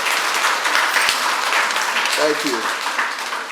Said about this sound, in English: A lovely round of applause for Charlyboy.